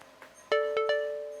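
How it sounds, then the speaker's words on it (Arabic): Ride-hailing app driver-arrival alert from a Jeeny Egypt phone app: three bright, close chime tones in quick succession, the last one ringing out and slowly fading, over a faint background. "ده صوت اشعار الكابتن لما يوصل."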